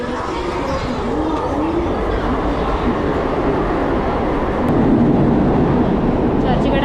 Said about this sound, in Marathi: चर्चगेट आली आहे ट्रेन